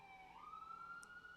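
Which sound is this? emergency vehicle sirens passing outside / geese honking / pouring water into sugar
emergency vehicle sirens passing outside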